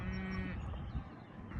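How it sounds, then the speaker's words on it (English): Cows mooing in a field on a peaceful morning after rain while they graze on grass, with a low drawn-out moo near the start and soft outdoor ambience throughout. "Just some peaceful cows down here having some grass for breakfast"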